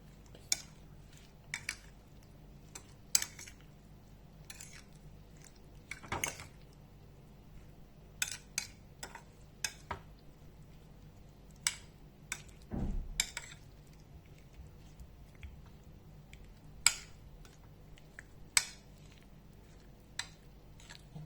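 A spoon stirs crème fraîche cream in a bowl, making sparse, light clinks and scrapes against the dish at uneven intervals over a quiet room.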